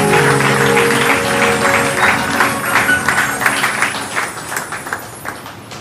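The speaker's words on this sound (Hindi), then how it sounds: "ताली द्वारा स्वागत" A church congregation claps in welcome. Dense, fairly loud applause comes through over a sustained musical tone and gradually thins and fades toward the end.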